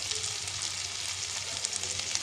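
Dry spices such as chilli powder, turmeric and salt hit chicken ghugni frying in a pan, producing a steady close sizzle with crackling pops over a low hum, and nobody speaks.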